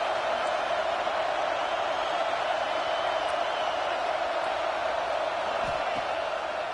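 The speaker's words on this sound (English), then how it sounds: "Listen to the crowd energy here in the early going." Stadium crowd from a college football video game, a steady, dense roar of many voices holding at an even level throughout without distinct cheers or breaks.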